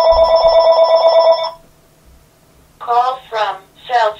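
A cell phone rings with a steady electronic tone, loud and close, stopping after about a second and a half in a quiet meditation room; a voice then speaks calmly.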